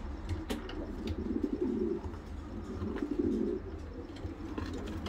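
Homing pigeons of a Leo Hermans racing line cooing in their loft, soft repeated low coos running steadily through the clip with faint background noise and no talk.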